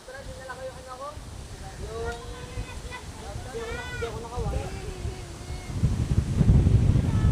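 Steady wind rushes across the microphone under people talking, swelling louder toward the end.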